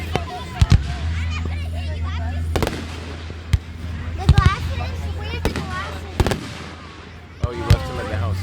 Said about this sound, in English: Just watch the fireworks.